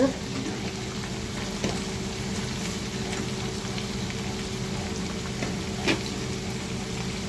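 Ridge gourd being fried with turmeric, chilli powder, dried red chillies and salt in a pan gives a steady, close sizzle with faint stirring scrapes throughout.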